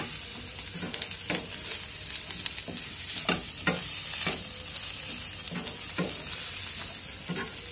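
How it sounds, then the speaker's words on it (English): Green onions go into a vegan stir-fry and sizzle loudly and close up, with a steady hiss under repeated sharp scrapes and taps of the spatula stirring in an irregular rhythm. "Finally, add green onions."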